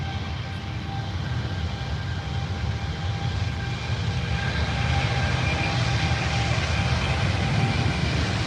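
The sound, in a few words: Virgin airliner engine starting up at Heathrow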